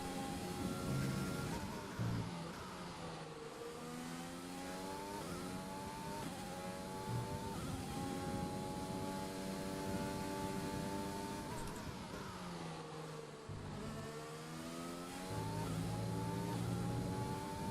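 A race car engine on track in a racing video game, during a lap, revs continuously up and down through the gears with sharp shifts, loud and sustained, with no talking.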